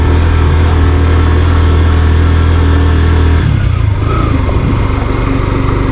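Motorcycle engine running steadily and loudly during a ride on a winding mountain road in Bandarban after rain, a continuous close drone that shifts in pitch partway through as the rider changes speed.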